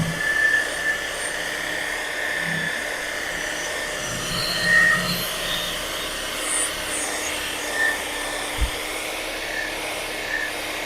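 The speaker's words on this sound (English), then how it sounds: "I make sure that the buffing pad is going off the edge, not digging against it" A power buffer whirs across freshly sprayed metal flake gel coat in a continuous droning hum, with faint rubbing swells and occasional small bumps as the pad moves over the surface.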